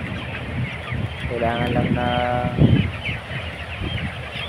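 Chickens cluck in a hot coop, making a few nearby calls and squawks that rise over a steady background hum. Someone talks over part of it.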